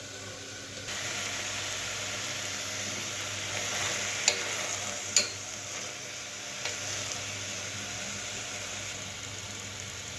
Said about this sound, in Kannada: ತೊಗೊಂಡಿರುವಂತಹ ಟೊಮೊಟೊ, ಈರುಳ್ಳಿ, ಮೆಣಸಿನ್ಕಾಯಿ ಎಲ್ಲ ಚೆನ್ನಾಗಿ ಫ್ರೈ ಆಗಬೇಕು